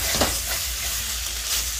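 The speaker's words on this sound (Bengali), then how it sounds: "সব মশলাগুলো দেখো ভাজা ভাজা হয়ে গেছে" Spice paste frying dry without water in a pan in a Bengali home kitchen, a close, steady sizzle with light stirring scrapes, no talk.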